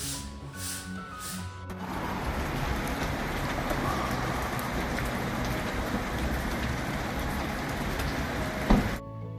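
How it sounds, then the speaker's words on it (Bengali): Heavy rain pours down in Europe, a steady dense hiss that starts abruptly after a short quiet stretch and continues loud and unbroken, with a brief knock near the end. "কি হারে ওখানে বৃষ্টি হচ্ছে তোমরা শব্দ শুনে আর দেখে নিশ্চয়ই বুঝতে পারছো"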